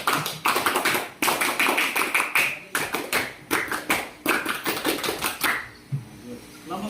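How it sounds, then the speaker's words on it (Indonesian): A classroom group performs a scout-style clap in unison, crisp sharp hand claps in quick rhythmic bursts and patterned pauses, loud and close, ending with a faint voice. "Kelompok yang sudah silakan tepuk tangan pramuka"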